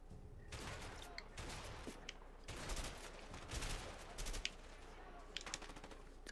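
Rapid, sustained gunfire from a co-op action video game, with dense bursts of shots in clusters across the whole stretch, loud and close.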